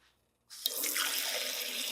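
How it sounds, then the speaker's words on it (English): Tap water rushing into a pot holding jars for making jam, starting abruptly after a brief near-silence and then running as a loud, steady, hissing stream close by. "I'm going to put in some water and let these heat up"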